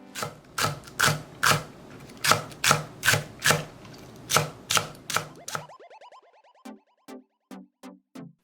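A knife chops a quarter of a Korean green onion into half-centimetre slices on a cutting board: about a dozen crisp, evenly spaced strikes, close and fairly loud, followed by a run of lighter, quicker taps.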